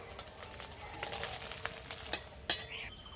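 Scrambled egg frying in a pan, a steady soft sizzle broken by several sharp scrapes and taps as it is stirred and broken up, close and without voices.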